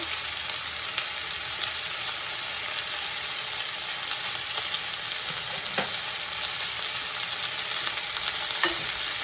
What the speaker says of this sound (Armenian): և թողնում ենք, որ շատ քիչ, բայց տապակվի, տապտապի։